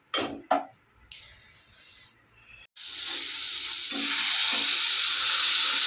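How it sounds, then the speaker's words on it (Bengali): Spice paste for a rohu fish curry fries and sizzles in oil while being stirred, a steady loud hiss that swells and thickens, with a few clinks of the spoon against the pan at the start. "এবারে মশলাটা ভালো করে আমি কষে নেব"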